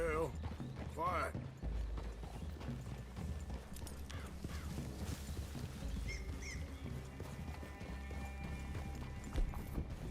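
Horses' hooves clip-clop steadily at close range in Red Dead Redemption 2, a continuous rhythmic trot with faint mechanical clatter and the odd voice mixed underneath.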